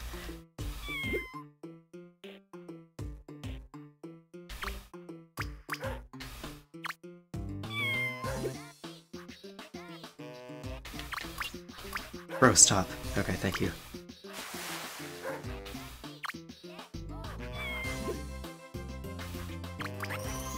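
A cartoon cat in the Nintendo DS game Scribblenauts meows repeatedly in short, bright calls across a long stretch, while a player talks over it.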